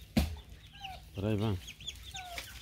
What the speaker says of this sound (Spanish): Y aquí van los little chickens. Los pollitos.